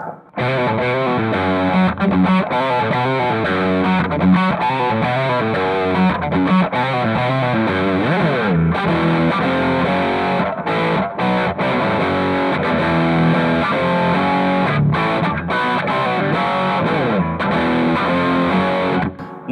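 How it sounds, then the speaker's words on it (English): A distorted electric guitar plays a busy, crunchy riff with saturated overdrive tone, loud and continuous with only brief gaps between phrases. "I'm gonna show you what it sounds like with the overdrive on"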